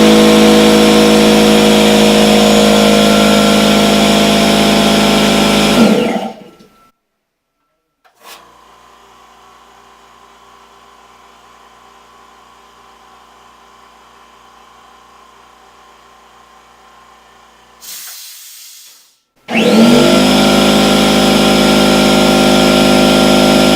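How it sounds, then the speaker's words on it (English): A small oil-less pancake air compressor roars loudly and close at about 90 decibels, cuts off to a faint hum, then kicks back on at full volume. "the little pancake air compressor is a standard air compressor. This produces about 90 decibels of sound."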